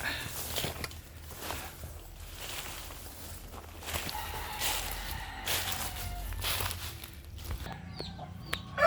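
Several chickens cluck and murmur nearby in a coop, with occasional footsteps and rustling among the birds and a low hum underneath.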